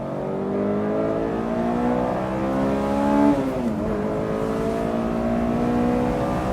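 A Honda S2000 AP1 sports car accelerates out of a turn, its engine note climbing steadily through the revs, with a brief dip and a short rise midway, heard loud and close from inside the car.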